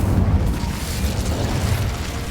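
Incendio fire spell from Hogwarts Legacy roaring as a continuous, loud, low whoosh and rumble of flame that holds steady throughout, with no voice heard.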